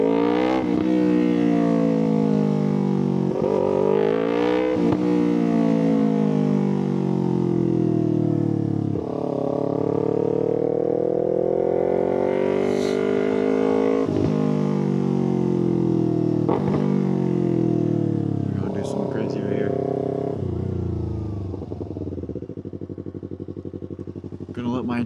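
A motorcycle with a newly fitted KO Lightning exhaust runs steadily throughout during a fall ride, its deep engine note rising and falling in repeated revs and idle swells, loud and close.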